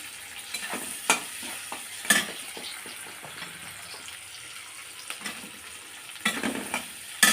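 Cumin seeds and onion frying in a hot pan, a steady soft sizzle with scattered crackles and a few sharper pops and stirring scrapes, close and alone.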